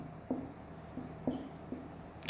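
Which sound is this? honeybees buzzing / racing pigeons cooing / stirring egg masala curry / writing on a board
writing on a board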